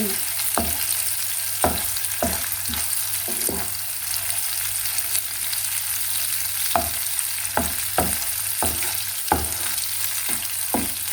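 Coconut milk reducing to latik sizzles and crackles steadily in hot oil, with a dozen sharp scraping stirs spaced irregularly through the frying.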